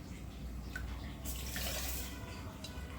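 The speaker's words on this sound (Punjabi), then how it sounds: "ਉਹੀ ਤਿੰਨ ਗੋਲੀਆਂ ਪਾਣੀ ਦੀਆਂ ਭਰ ਕੇ ਪਾ ਲੈਣੀਆਂ ਨੇ" Water poured into a pan while making suji halwa in a home kitchen, a steady close splashing rush that swells in the middle of the pour and then eases.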